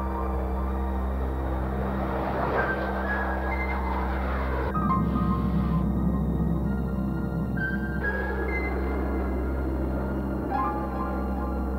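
Steady multi-engine propeller drone of a large military aircraft during departure for takeoff, a constant loud hum with shifting tonal layers throughout, no talk heard.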